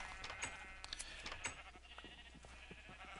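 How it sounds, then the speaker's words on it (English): Sheep bleat repeatedly in a Minecraft-style server game, several overlapping calls at low volume over a steady background hum, with no speech. "Let's turn the sound of these sheep down a little bit."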